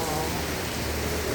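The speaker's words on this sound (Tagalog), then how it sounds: "Parang hapon na kasi nga lakas ng ulan." Heavy rain pours steadily in Taiwan, a dense, even hiss of drops on surfaces with no letup, close and enveloping, alone without talk.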